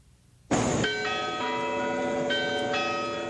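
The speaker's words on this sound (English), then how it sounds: "The chime of the afternoon bell is the loudest sound on this quiet Georgetown campus" An afternoon bell on a quiet Georgetown University campus strikes loudly after a brief hush, its bright metallic tone ringing on with a long, sustained shimmer and no voices.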